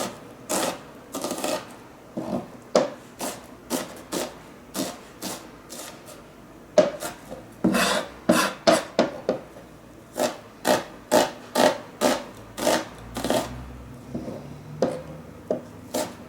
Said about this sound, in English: Again, find a way that you prefer to cut onions.